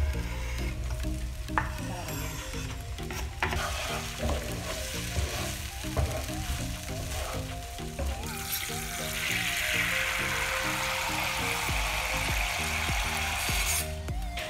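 Tomato fries in a pan for chicken stew with a constant loud sizzle, while music with a steady beat plays underneath and the sizzle swells stronger toward the end.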